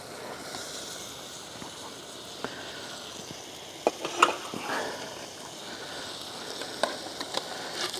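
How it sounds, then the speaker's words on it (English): A pork chop browning in a pan with a splash of juice at a campsite, giving a soft continuous sizzle and crackle with occasional louder pops and light stirring clinks, no talking. "what I've decided to do is put my pork chop in there, throw in a little bit of juice just to brown him off a bit."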